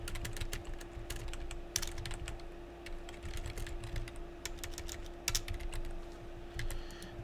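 Computer keyboard typing code, rapid irregular key clicks in short bursts over a steady low hum, close and clear, no voices.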